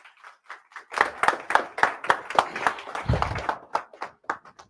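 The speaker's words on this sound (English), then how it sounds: "let's give a round of applause for Prashant" A small group claps in an uneven patter of distinct hand claps, close by and fairly brief, with no voices.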